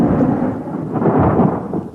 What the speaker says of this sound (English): the fluid mechanics of a thunderstorm